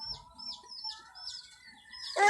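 Chickens cluck with a few repeated short, faint calls that rise in pitch, ending in a louder call. The birds sound close and fairly quiet. No speech.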